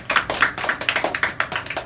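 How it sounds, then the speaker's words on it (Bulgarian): Audience clapping at a live mentalist show, a short burst of close, sharp hand claps in a quick uneven rhythm, fading slightly at the end. "Аплодисменти за Коцето."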